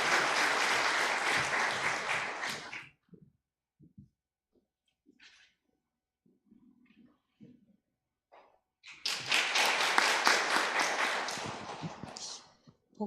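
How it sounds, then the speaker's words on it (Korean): An audience at a church class graduation ceremony claps to welcome a speaker, a loud burst of applause that dies away into a few scattered thumps, then a second round swells up. "박수로 환영하시겠습니다"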